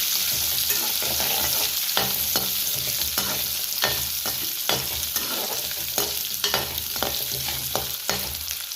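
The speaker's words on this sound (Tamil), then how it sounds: "நல்ல எண்ணெயில் வதங்கட்டும்." Chopped onions and a few garlic cloves sautéing in gingelly oil, a steady close crackling sizzle punctuated by repeated scraping stirs of a spatula against the pan.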